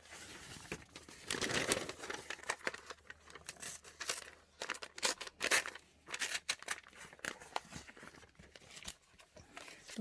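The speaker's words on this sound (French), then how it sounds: "donc je vais la déchirer." Paper image being torn out of a brochure by hand, with crisp ripping and crinkling bursts in irregular spurts close by, no talking.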